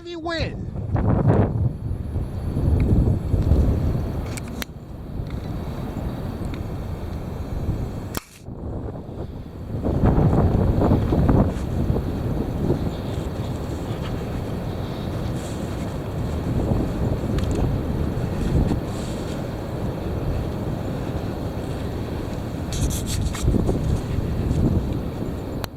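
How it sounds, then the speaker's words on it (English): Heavy wind blows hard against the microphone in continuous loud, gusty rumbling that buffets throughout, with a few sharp knocks and a brief dip midway. "Here it comes. The heavy wind."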